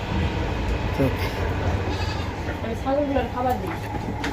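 Several wavering bleats from a goat on a farm rise over a background of people talking and a constant low hum.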